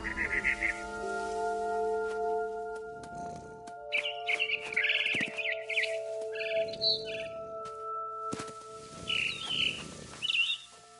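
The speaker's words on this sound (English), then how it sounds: "Then I heard chirping outside my window. It was a barn swallow going back to her nest." A barn swallow chirps in bursts of bright, twittering calls from the game What Remains of Edith Finch, set over sustained tonal hums and a few soft knocks, fairly close and clear.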